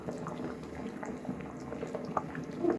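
Vegetable khichuri bubbles and simmers in a pot, a soft continuous burble of thick popping bubbles heard close, ending with a louder clatter.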